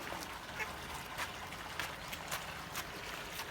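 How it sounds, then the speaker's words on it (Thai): Small ducklings quacking outdoors at a highland garden park in Thailand, a few short, faint calls scattered over steady background ambience. "เป็ดตัวน้อย"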